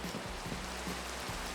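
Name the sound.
rain falling in Minecraft, a video game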